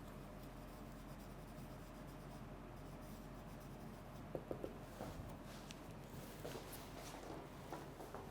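Quiet pen or chalk strokes from handwriting during a lecture, faint scratching with a few brief taps over low room noise, no speech.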